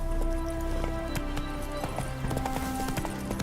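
Roach the horse gallops in The Witcher 3: Wild Hunt, with steady clip-clopping hooves drumming close by over a bed of game music and ambience.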